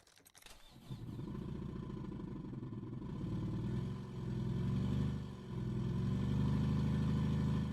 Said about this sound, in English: I want to do it without music first. To hear the engine.